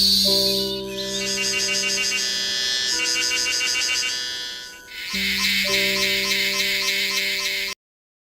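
Periodical cicadas, tonggeret emerging every 17 years, fill the air with a loud continuous buzzing chorus of shrill pulsing tones, briefly dipping midway before swelling again and cutting off abruptly.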